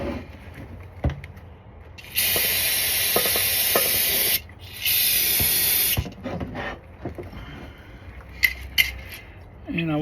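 Brake cleaner sprayed up under a vehicle's rear differential during a fluid change, two loud hissing bursts of a few seconds each, close by, with faint clinks and handling noise around them.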